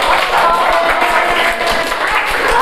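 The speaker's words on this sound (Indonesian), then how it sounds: "kasih tepuk tangan." A classroom group applauds, with steady dense clapping from many hands filling the room at close range for the whole stretch, and a few voices murmur underneath.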